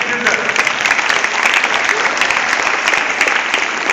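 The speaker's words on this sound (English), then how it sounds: "So kindly give a big clap for class 9 children." An indoor audience at a school gathering claps loudly for class 9 children, a dense, sustained burst of applause filling the whole stretch.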